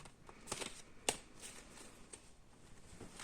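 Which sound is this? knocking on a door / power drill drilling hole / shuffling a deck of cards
shuffling a deck of cards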